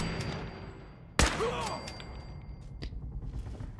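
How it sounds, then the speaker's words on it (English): Raiders in the Fallout 4 video game fire guns in a loud burst followed by a few fainter distant shots, set against a rumbling, noisy game background. "There's a lot of gunfire."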